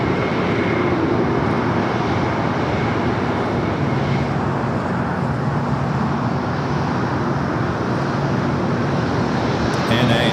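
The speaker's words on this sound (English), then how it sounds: "ANA taking off there on the north side." An ANA airliner taking off from the north side of LAX, a loud, steady broadband engine roar that holds evenly throughout with no break.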